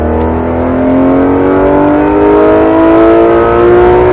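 A Porsche GT3 RS accelerates hard on a race track, with a loud, continuous in-car engine tone climbing steadily in pitch as it pulls through the gear.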